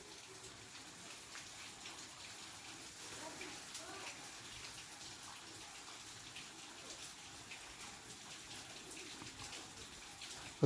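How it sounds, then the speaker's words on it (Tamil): Cooking oil, about a quarter litre, poured into a frying pan ahead of frying eel fish, giving a steady hiss and patter of liquid that runs throughout at moderate level. "ஒரு 1/4 லிட்டர் எண்ணெய் ஊற்றிருக்கேன்."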